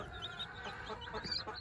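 Newly hatched chicks peep in a busy, overlapping chorus of high chirps, close and steady throughout with a light background hum.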